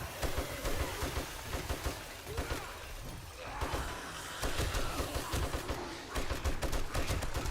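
Rapid, continuous gunfire in the survival video game 7 Days to Die as players shoot at zombie mobs, dense bursts of shots with impacts, loud throughout and mixed with voices talking.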